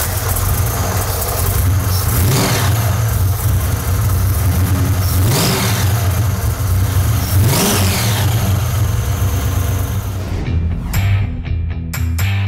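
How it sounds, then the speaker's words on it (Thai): A supercharged car engine revs hard three times, each a sharp rising surge over a loud steady idle, close by, before cutting off at the end. "ขอฟังเสียงซุปเปอร์ชาร์จหน่อยได้มั ้ย"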